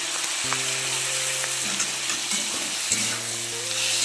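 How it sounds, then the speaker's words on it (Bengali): Potatoes and onions fry with a ground mustard and green chili paste, a steady close sizzle broken by several stirring scrapes and clinks of a utensil against the pan, with no voices. "সর্ষে কাঁচা লঙ্কা বাটাটা দিয়ে আমি ভালো করে নেড়ে চেড়ে ভেজে নিয়েছি"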